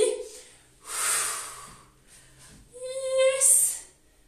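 Breathing during a Pilates exercise: a soft nasal exhale followed by a longer, louder airy breath out, close up and hissy, with no words spoken.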